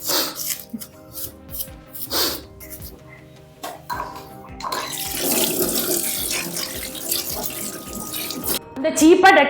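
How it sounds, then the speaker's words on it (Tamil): Scrubbing with a wire brush under a running tap, water splashing into a sink with intermittent scraping strokes, while people talk over it. "கம்பி ப்ரோச எடுத்து வச்சு தேய்ச்சி கழுவுங்க."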